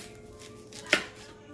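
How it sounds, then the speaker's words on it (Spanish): A small knife chops an onion with a single sharp tap on the board, faint and close against a quiet kitchen background, with no talking. "cortar la cebolla."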